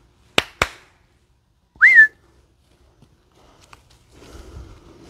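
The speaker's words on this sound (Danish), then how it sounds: "når jeg klapper i hænderne, og lige fløjter" Two hand claps, then a single rising whistle calling a dog in a forest, followed by faint rustling footsteps and movement; no talking.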